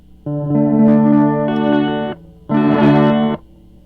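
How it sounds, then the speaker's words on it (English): Electric guitar put through a reverse reverb effect, two swelling chords that fade in and cut off abruptly with a short gap between, loud and alone with no talk. "So that's the reverse reverb."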